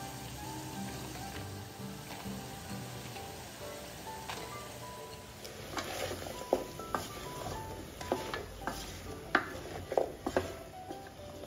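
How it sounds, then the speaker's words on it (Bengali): A pot lid comes off and a spoon stirs flat beans into a hilsa fish curry with cauliflower, sizzling softly at first, then several scraping, clattering stirs in the second half, close and moderately loud, with no talking. "ঢাকনা খুলে নেড়েচেড়ে আমি সিমগুলি দিয়ে দিচ্ছি।"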